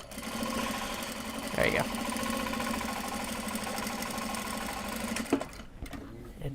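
A sewing machine stitches a Japanese fabric bag, its steady mid-pitched whir running almost without pause for several seconds before stopping near the end, with a person speaking briefly over it.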